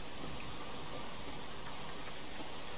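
Steady, dense rain hiss from the video game Subsistence fills the whole stretch, a constant broadband patter with no voices and no pauses.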